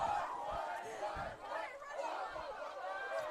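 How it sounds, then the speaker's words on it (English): Cheerleaders chant and cheer at a powder puff football game, a steady crowd-like mass of young voices yelling in unison over ongoing chatter, fairly distant and continuous throughout. "I don't even know who the cheerleaders are cheering for"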